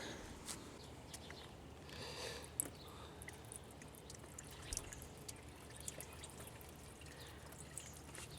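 Engine coolant draining out of a removed water pump into a basin, a faint trickle and scattered drips running continuously and quietly, with occasional small splashes.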